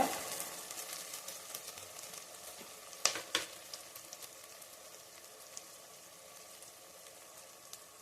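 Tomato and onion fry in a pan with a steady, close sizzle. A few sharper clinks or stirs come around the middle, and then the crackle settles back to an even hiss.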